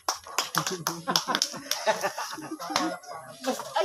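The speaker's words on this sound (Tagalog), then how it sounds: "Mga bata, palakpak daw kayo." A group of children claps in quick, irregular bursts, the sharp slaps close by and overlapping, while voices chatter over them.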